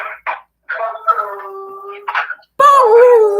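A dog howls and whimpers in a string of wavering, drawn-out calls broken by short yips, ending in a louder, sustained howl close by.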